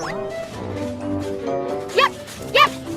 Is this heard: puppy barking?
yes